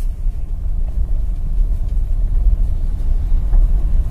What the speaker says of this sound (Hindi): अब देख सकते हैं ये 800-900 आरपीएम में मेरी कार चल रही है।